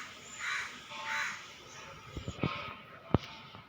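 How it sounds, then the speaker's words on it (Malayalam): Crows caw twice, faint and distant, over a quiet background with a few soft clicks and knocks afterwards. "കാക്കാളുണ്ട്, ശല്യമാണെന്ന് പറയുന്നത്"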